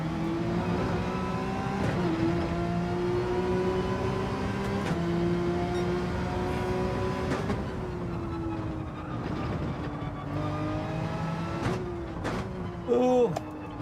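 Porsche race car engine in Gran Turismo 7 during a daily race warm-up, a steady loud drone with repeated gear shifts and dips, pitch sliding up and down through corners, continuous and close throughout.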